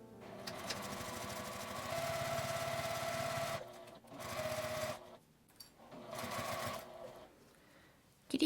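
Sewing machine stitching a fabric glasses case with a 1 cm seam allowance, running in three steady bursts of continuous motor hum and needle chatter separated by short pauses, close and fairly loud with no talking.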